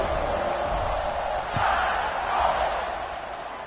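A stadium crowd cheers in the College Football 26 video game, a steady wash of many voices that swells slightly toward the end, heard at a distance.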